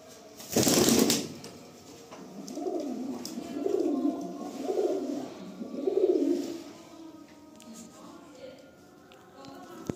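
Madrasi pigeons coo in a series of soft, rolling, throaty calls, close by, after a brief burst of noise at the start.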